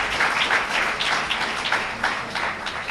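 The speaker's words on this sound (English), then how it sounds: "Let's give Brother Akbar another well-deserved round of applause for his presentation." Audience applause for a presentation at a religious gathering, a steady wash of many hands clapping that holds at an even level throughout.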